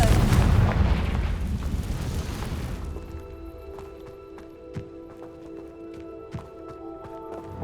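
A fire spell explosion in Hogwarts Legacy, a single loud booming blast that fades into quieter game ambience with a few soft thuds afterward.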